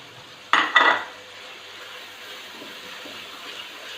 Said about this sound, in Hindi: अच्छी तरह से फ्राई करेंगे इसको।